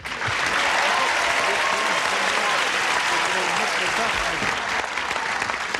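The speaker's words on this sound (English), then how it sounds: "Would you join me in a brisk round of applause for our two players over here?" A studio audience at a game show gives a sustained round of applause for two players, a dense, even wash of many hands clapping that stays loud throughout.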